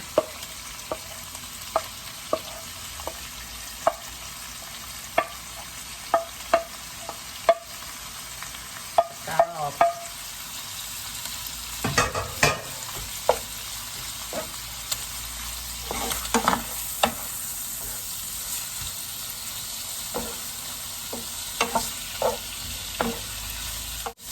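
Shrimp and squid stir-fried in a pan for dry mixed suki, a steady sizzle broken by repeated sharp scrapes and clinks of a spatula against the pan, busier and louder in the middle, with no talk.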